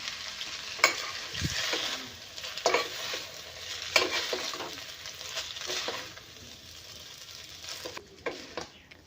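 Noodles tossed with salt in a hot pan, a steady sizzle and frying hiss under repeated scraping stirs and occasional clinks of a utensil against the pan, close and fairly loud with no talking.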